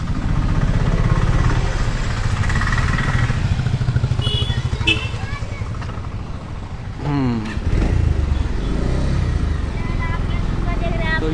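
Motorcycle engine running steadily up close while riding alongside a 25 km bicycle rally for saving trees, a continuous rumbling drone with voices talking over it.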